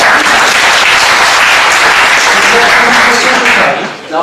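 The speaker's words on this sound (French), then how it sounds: "il faut l'applaudir quand même" An audience at a Paris court of appeal gathering for court-appointed experts applauds a speaker. Dense, steady clapping fills the room for about four seconds, then thins out and fades near the end.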